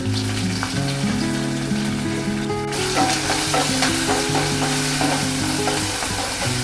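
An onion and spice mixture with curry leaves and salt for misal sizzles steadily in a pan as it is sautéed and stirred, with the frying growing denser partway through over a faint tonal background.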